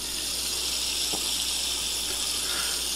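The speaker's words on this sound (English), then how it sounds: "I can turn on the water." Steady water gushes from a tap in a video game bathroom, a continuous hiss that fills the whole moment with no talk over it.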